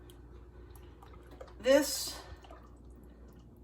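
Liquid poured into a pot of pumpkin soup, a short splashing gurgle lasting about half a second amid quiet kitchen background, with a voice speaking briefly.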